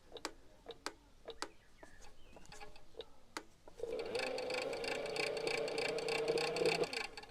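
An electric scooter's motor, its wires having torn loose, is driven without reaching full power. Sharp ticking and clicking come first, then a steady electric whine runs for a few seconds before cutting out.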